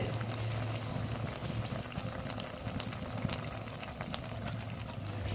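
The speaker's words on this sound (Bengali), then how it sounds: "সবেমাত্র ঝিঙে ও ডাঁটাকে কড়াইয়ে সিদ্ধ করার জন্য দেওয়া হলো" Ridge gourd and vegetable stems boil in a wok, giving a continuous bubbling, hissing roar with scattered small pops, steady and close throughout with no speech.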